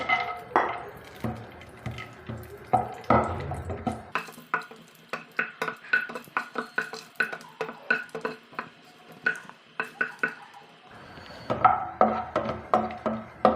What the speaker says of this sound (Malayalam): അതിലേക്ക് ഇതാ ഒരു സ്പൂണോളം കാഷ്നട്ട് അതൊന്നിട്ട് വറുത്തെടുക്കാം